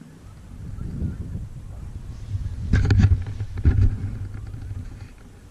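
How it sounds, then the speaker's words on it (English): Geese honk outdoors in a snowy winter nor'easter, a couple of short bursts of honking cries at middle distance over soft wind. "Geese."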